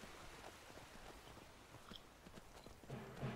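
Steady clip-clop of horse hooves trotting along in the video game Skyrim, with a faint background hum and occasional small clicks.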